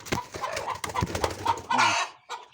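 A chicken kept for raising chicks clucks close by in a quick run of short, throaty calls, with a rustle or brief flutter near the end and no talking.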